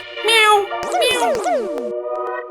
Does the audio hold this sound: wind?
no